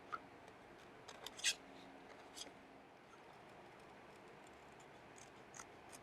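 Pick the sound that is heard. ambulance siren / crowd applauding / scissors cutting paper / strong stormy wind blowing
scissors cutting paper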